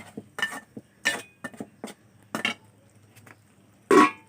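Lentils cooked with spices in a pot are stirred in short, separate bursts of scraping and clinking, with a louder scrape at the end and quiet gaps between.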